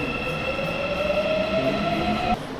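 A train pulls away from Suwon station in South Korea, a steady rising whine with a sustained hum and rolling rumble, loud and close, ending with an abrupt drop near the end.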